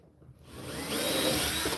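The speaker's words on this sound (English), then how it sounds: "drilling a little pilot hole using a stainless steel screw" A power drill with a stainless steel screw bores a pilot hole into a lobster buoy, a loud, close, steady whine that starts abruptly and runs unbroken to the end.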